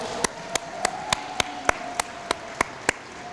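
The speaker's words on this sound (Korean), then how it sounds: "축하의 박수를 보내주시면 좋겠습니다" Audience at a South Korean opposition party event claps in a steady, evenly spaced rhythm, about ten sharp, distinct claps over a few seconds with no talking.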